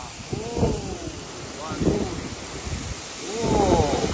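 Strong wind roars at a campsite, buffeting the microphone in loud, rumbling gusts that swell and fade against a constant rushing background.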